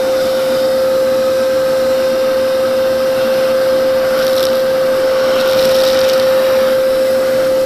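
Shop vacuum running steadily inside a car engine bay, sucking up mouse or rat droppings from a narrow valley, with a constant loud drone and occasional brief rattles as debris is pulled into the hose.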